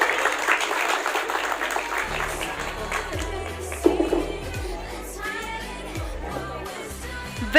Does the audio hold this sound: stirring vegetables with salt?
no